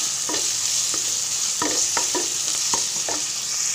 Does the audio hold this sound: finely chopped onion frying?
yes